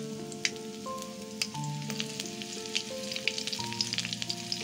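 Curry leaves, a dried red chili and chopped green chili sizzling in hot oil, a quiet continuous crackle with small sharp pops.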